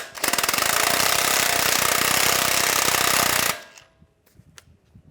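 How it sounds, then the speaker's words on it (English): A power impact wrench rattles a bolt tight on a Jeep Wrangler tie rod adjusting sleeve, a loud continuous hammering burst of about three and a half seconds that stops abruptly, leaving a few faint clicks. "Now I'll tighten this bolt up."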